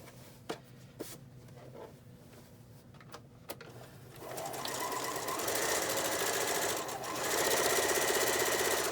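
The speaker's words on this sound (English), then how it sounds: "I'm going to sew the bottom and sew the top" A sewing machine runs a straight stitch across a fabric face mask with a removable filter pocket. Brief taps and clicks come first, then a steady, loud mechanical whir settles in and continues to the end, with no talking.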